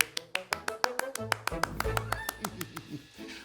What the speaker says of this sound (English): Everyone clap for him.